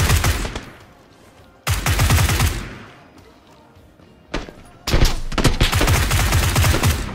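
Bursts of automatic gunfire in the battle royale game PUBG come in loud rapid volleys: one long burst, a pause, a single sharp crack, then another sustained stretch of rapid shots, separated by quieter gaps.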